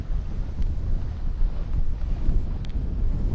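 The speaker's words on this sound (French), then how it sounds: "là il y a une bourrasque." A gust of wind roars against the microphone while sailing a boat at speed near 20 knots, a dense, loud, continuous rush of low wind noise with no speech.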